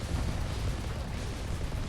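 A dense, booming burst of heavy gunfire with a continuous low rumble, loud and close, from a tank cannon in War Thunder, an SPz Marder A1.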